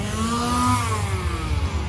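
Chainsaws revving in a Halloween Horror Nights 33 scare zone at Universal Studios, a loud, steady motor drone with rising and falling pitch, heard close amid outdoor crowd noise.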